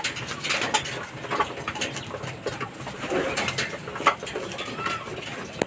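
Pigeons cooing close by in a loft, their soft repeated coos rising and falling over a steady background hum with scattered light mechanical clicks.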